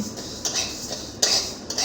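Rice is fried in a pan, with a spatula stirring it and scraping the metal in quick, light clattering strokes. The clip holds no speech.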